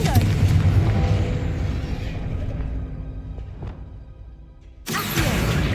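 Confringo fire-blast spell explosions in the Hogwarts Legacy video game: a loud booming burst decaying over a few seconds, then another sharp blast near the end.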